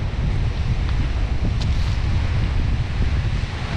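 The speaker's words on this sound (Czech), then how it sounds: "fouká severní vítr, celkem ledový." Cold north wind blowing across a high alpine mountain trail, a steady loud rush buffeting the microphone with no voices.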